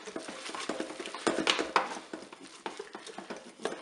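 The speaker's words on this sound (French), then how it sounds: "on va mélanger tout ça" Spaghetti forestière stirred in an opened Cookeo multicooker pot, a soft continuous patter of wet scraping and light utensil clicks against the pot, close and fairly quiet.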